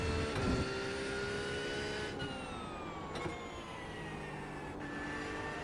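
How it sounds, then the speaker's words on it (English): A GT3 race car engine in a racing video game drones at a high, steady pitch, with gear shifts and falling and rising revs cutting through a constant whine, with no talk. "I do like the way this car sounds."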